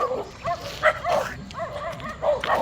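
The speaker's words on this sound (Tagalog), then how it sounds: "Basta may aso." A dog barks repeatedly in short, yappy bursts, fairly close, with some whiny yips between them.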